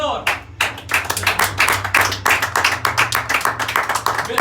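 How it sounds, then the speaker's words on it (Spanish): A church congregation claps hands in rhythm, a steady run of many sharp overlapping claps with a low hum beneath. "Denle palmas al Señor"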